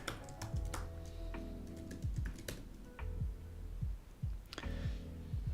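Fingers tap rapidly on a computer keyboard while someone codes an operating system in C++. Irregular clicks and clacks bunch into short bursts, close and clear, over a low background hum.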